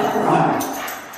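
A dog gives a short whimpering yip, close and fairly loud, lasting barely a second, with no talk over it.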